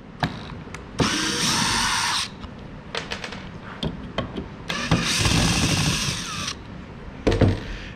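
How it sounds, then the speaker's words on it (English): A power drill whirs in two sustained bursts, boring pilot holes into cedar wood for a small chest, with clicks, taps and handling knocks between the runs, close and loud. "drill my pilot hole 1 inch deep into each of those spots"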